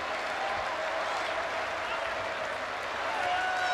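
A football crowd at Bristol City cheers and applauds as the trophy is held aloft, a dense and steady roar of clapping and cheering heard from a distance.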